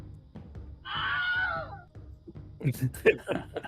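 A voice imitates a short, thin scream, a wavering high wail of about a second, followed by quieter vocal sounds and speech-like noises close to the microphone.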